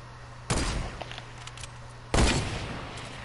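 Two loud, sharp gunshots from a hide-and-seek match in a video game, about a second and a half apart, each with a short decaying tail over a steady background hum.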